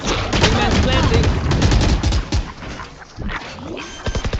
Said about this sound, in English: They shot my wingman.